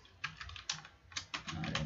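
Password keys tapped on a computer keyboard while encrypting a Microsoft Word 2016 document: several quick bursts of close, crisp keystroke clicks separated by short pauses, with no voices.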